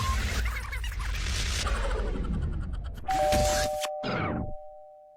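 A ding-dong doorbell chime sound effect rings out clearly near the end. A rushing whoosh and a clattering burst come before it, and the chime's ringing tone cuts off sharply.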